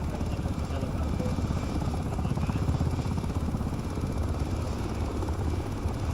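A helicopter in the Arma 3 video game gives off a steady, loud rotor drone that holds level throughout, with the faint chop of the blades under it and a few voices talking over it.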